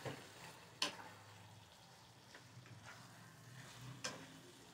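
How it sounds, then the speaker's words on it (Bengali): A vegetarian spinach curry being stirred in a pan: a soft, low sizzle with a few distinct scrapes of the spoon against the pan, faint and close, with no talking. "এটা এবার নেড়ে নেব।"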